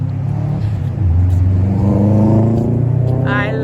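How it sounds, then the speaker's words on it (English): A loud car roars past close by, its engine revving and rising in pitch as it accelerates, a continuous throaty rumble that swells and then fades slightly. "I love loud cars"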